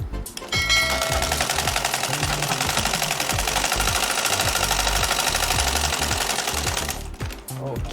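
A sewing machine runs a straight line of stitching on Ankara fabric for men's shorts, a fast steady mechanical whir and rattle that holds for several seconds before stopping near the end, close and loud.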